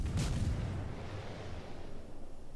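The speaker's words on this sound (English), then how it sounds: "Let's get some shells out of the Henri." Naval gunfire in World of Warships, a heavy booming salvo of shells from a ship's guns firing at an enemy ship, one loud blast that rolls off into a long fading rumble.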